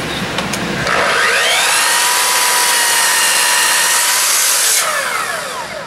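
A Festool Kapex miter saw makes a single 15-degree cut through a board: a loud, close, high whine that spins up, holds for about four seconds, then winds down.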